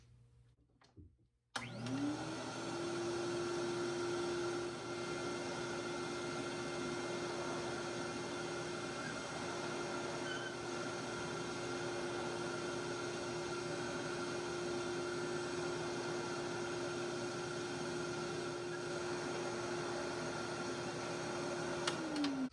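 A 1969 Eureka Crown Princess Model 812 upright vacuum cleaner switches on with a thump and runs on a rug as a steady, even whirring hum with a motor whine, continuing alone for about twenty seconds.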